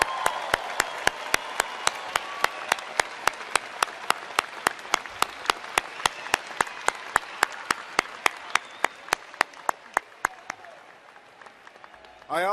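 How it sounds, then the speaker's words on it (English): At a university engineering school commencement ceremony, the audience applauds, with a steady, evenly spaced run of sharp claps standing out over a softer crowd-clapping bed that fades toward the end. "You all deserve a round of applause."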